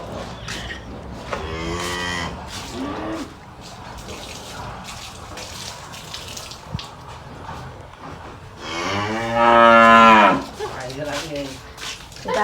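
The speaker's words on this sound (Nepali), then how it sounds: "त गाई हो" A cow moos loudly twice, long drawn-out lows a few seconds apart, over a busy outdoor background with running water and people talking nearby.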